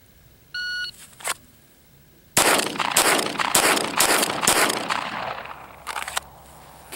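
A Glock 17 Gen 5 MOS pistol with an Apex trigger and Taran Tactical spring kit: a shot timer beeps once, then five sharp, loud shots crack off in a quick string at close range.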